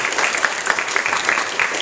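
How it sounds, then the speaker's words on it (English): Steady audience applause at a December 2012 pinning ceremony, many hands clapping densely and evenly throughout, a full room sound with no break. "give applause to these people out in the audience"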